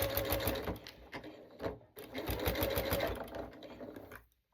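A sewing machine runs a lock stitch while joining strips on a jelly roll rug, a fast steady mechanical whir and rattle close up, pausing briefly once before resuming and then stopping.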